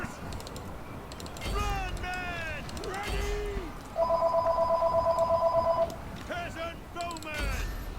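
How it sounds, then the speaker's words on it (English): A telephone rings in a repeated electronic trill over about two seconds, close and clear, with a person talking before and after it. "Just ignore the phone, please."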